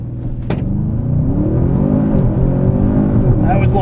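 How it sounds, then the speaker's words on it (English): A 2024 Audi RS7 launches from 0 to 60 under launch control, its engine roaring loud and close as the revs climb in a rising whir, with a sharp click near the start. "Do a quick 0 to 60 here"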